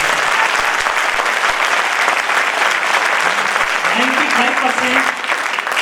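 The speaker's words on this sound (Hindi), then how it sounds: "ताली जोरदार बजाएं।" An audience at a motivational talk claps loudly and continuously in a dense, sustained wave; a voice rises briefly near the end as the applause thins slightly.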